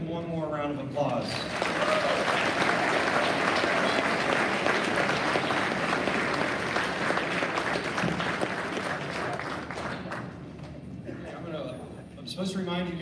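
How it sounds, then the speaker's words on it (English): Sustained audience applause at a Veterans Day gathering, a dense, steady wash of clapping that stays loud for about ten seconds before thinning out. "Let's give him one more round of applause."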